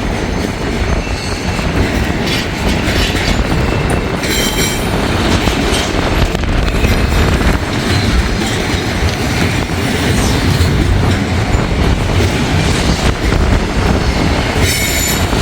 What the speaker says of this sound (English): There goes Norfolk Southern